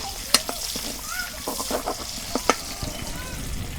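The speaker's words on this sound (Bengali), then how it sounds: "আজকে আমি চামচ দিয়ে নাড়তেছি" A spoon stirs a greens curry with brinjal and dried fish as it fries, giving a continuous sizzle marked by repeated sharp metallic scrapes and clinks against the pan.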